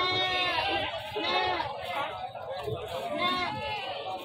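Goats bleat repeatedly amid a busy livestock market at the Wlingi animal market in Blitar, with people chattering and talking close by over the animal calls.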